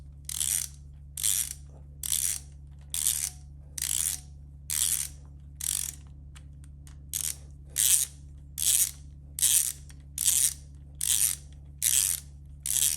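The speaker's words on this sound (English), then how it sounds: "I've already set my torque wrench up to 18 foot-pounds" A torque wrench set to 18 foot-pounds ratchets on bolts during assembly of an LSA 416ci short block with a cam install. It gives about fourteen evenly spaced bursts of sharp, close clicking with short quiet gaps between them.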